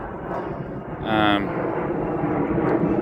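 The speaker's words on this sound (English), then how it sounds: "Sorry about the airplane." A fixed-wing airplane passes overhead near an airport, its broad engine roar swelling loudly about a second in and then settling into a steady rumble that persists to the end.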